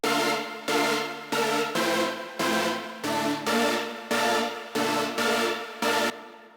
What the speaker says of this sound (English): It's playing these kind of dissonant chords.